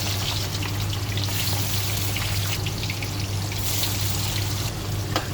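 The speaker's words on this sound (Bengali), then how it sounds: "তো একে একে মাছগুলো দিয়ে দিচ্ছি।" Pieces of rohu fish fry in hot oil in a wok, a loud, steady crackling sizzle with bursts of spattering throughout.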